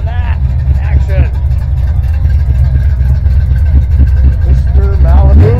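A Chevrolet Chevelle muscle car's deep, rumbling engine idles and revs steadily throughout at a car show, loud and close, with people talking faintly over it.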